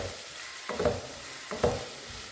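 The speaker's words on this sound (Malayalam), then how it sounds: "പച്ചമുളക് ഇട്ട് കൊടുക്കാം ചെറുതായി അരിഞ്ഞ സവോള ഇട്ട് കൊടുക്കാം ചെറിയ രീതിയിലൊന്ന് നമുക്ക് നന്നായിട്ട് വഴറ്റിയെടുക്കാം" Chopped onion and green chili sauté in a pan over a soft background sizzle, with two distinct stirring scrapes of the spatula against the pan.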